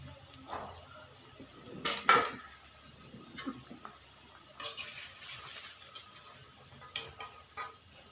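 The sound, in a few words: fully cooked vegetable pakoras being taken out of frying oil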